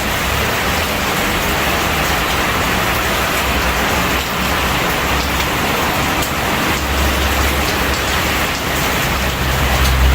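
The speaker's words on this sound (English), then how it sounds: "A rainy Wednesday it is." Rain pours down steadily on a wet Wednesday, a dense, loud, unbroken hiss of drops hitting surfaces close by, with no voices over it.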